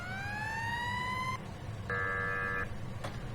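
A synthetic fire truck siren in Farming Simulator 19 wails upward, then a flat electronic horn tone sounds, fairly quiet over a low engine rumble.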